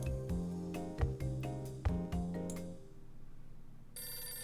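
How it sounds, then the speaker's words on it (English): In the Hotel Dusk game a telephone rings in a quick repeating electronic trill, loud and close, then stops and leaves a quieter tone behind. "Phone again."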